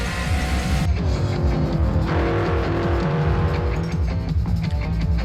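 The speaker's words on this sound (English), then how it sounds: "I am here at Sonoma Raceway, which back in the 70s was known as Sears Point, in a 76 Dekon Chevy Monza IMSA GT racer" A 1976 Dekon Chevy Monza IMSA GT race car at Sonoma Raceway, its engine roaring loud and close in a continuous droning growl that shifts in pitch as it accelerates.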